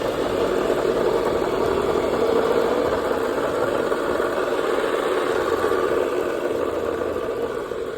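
A Subaru Outback sits on a lift with its engine running and a wheel spinning, giving a steady, continuous mechanical hum and drone that stays even and fairly loud throughout, with no voices.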